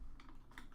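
Someone types on a computer keyboard, a few quick, quiet key clicks in an uneven rhythm, close by and without speech.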